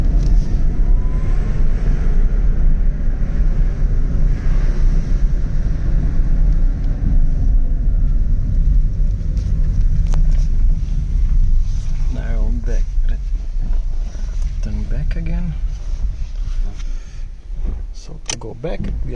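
An electric Renault Clio 2 conversion drives along small streets, a steady loud road and cabin rumble with wind noise, later joined by faint whines and clicks, while a voice talks over it.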